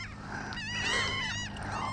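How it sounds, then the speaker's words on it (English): Seagulls call out nearby on a beach, several harsh, wavering squawks overlapping in a brief burst over faint outdoor background noise, with no talking. "Hello, seagulls. How you doing over there?"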